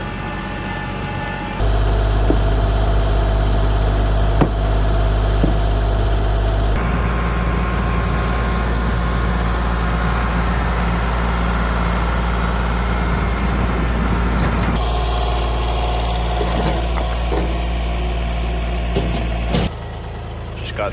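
A small tractor engine idles steadily and close by, a low continuous rumble with a brief shift in pitch partway through, then cutting off near the end.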